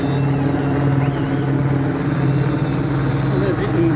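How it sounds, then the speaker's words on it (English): A helicopter flying overhead in Portugal gives a steady, droning engine hum with a low rotor-like throb, continuous and fairly loud throughout, with a faint voice underneath. "there's the motorbike helicopter up above"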